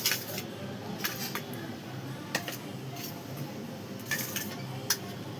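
Grated cabbage and carrot being mixed for momos in a bowl, giving soft, faint clinks and scrapes of a utensil against the dish at irregular intervals.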